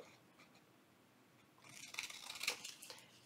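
Scissors trim a book page for a junk journal, with quiet handling at first, then a short burst of crisp snipping and paper rustle close by, loudest near the end.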